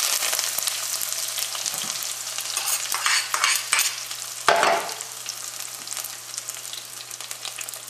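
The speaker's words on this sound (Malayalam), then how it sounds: "ഇനി ഇതിലേക്ക് നമുക്ക് സവോളയും ഇഞ്ചിയും വെളുത്തുള്ളിയും വേപ്പിൻ്റെ ഇലയും ചേർക്കാം." Onion, ginger, garlic and curry leaves fry in hot oil for a fish curry, giving a steady close sizzle with scraping stirs throughout and a louder burst of crackle midway.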